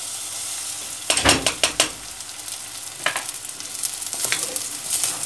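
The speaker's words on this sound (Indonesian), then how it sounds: "Kita aduk dengan kekuatan penuh supaya tidak terjadi kemutungan atau kegosongan" Rice and bulgur frying in a pan for Turkish stuffed peppers, stirred vigorously, giving a constant sizzle broken by a quick run of scraping, clattering strokes and a few later scrapes, close by with no talk.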